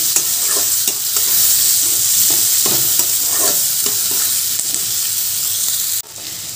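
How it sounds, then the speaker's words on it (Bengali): Onion and garlic sizzle steadily in a hot pan, a loud, close hiss broken by soft stirring scrapes. The frying noise drops off sharply near the end. "এবার আমি এই পেঁয়াজ রসুনটা একটু ভালো করে ভাজা ভাজা করে নেব"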